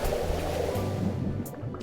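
Freezing winter ocean waves in the video game Robotics;Notes Elite surge and churn continuously, a close rushing wash of surf with a few brief splashes, no talking.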